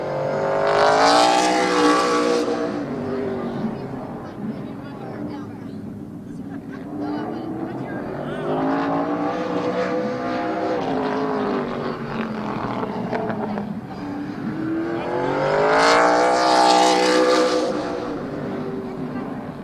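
Race cars lapping Midvale Speedway, engines rising and falling as they pass, with two loud close sweeps at the start and end and a steadier drone between, under continuous public-address talk.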